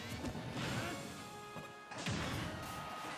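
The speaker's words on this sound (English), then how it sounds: "Finally, one of these F-smashes connects." A forward smash lands with a loud crash in a Super Smash Bros. grand finals match between Mega Man and Sora or Yoshi. Two heavy impacts hit about two seconds apart over dense game noise and crowd din.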